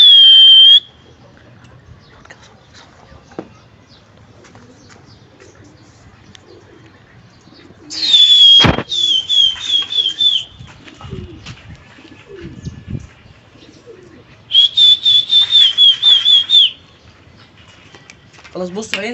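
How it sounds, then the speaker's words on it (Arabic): Domestic pigeons kept on an Egyptian rooftop loft fly about, with bright whistling and chirping bursts that come in clustered runs between quieter stretches of faint background noise. "حد مطير شويه حمام برضو حلوين"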